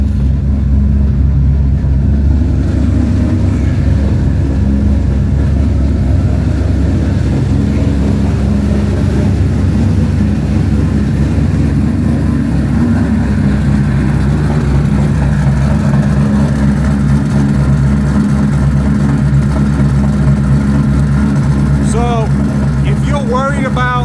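A 2003 Cobra twin-turbo engine runs steadily, a loud, deep, continuous rumble that holds throughout at close range, with some faint background activity near the end.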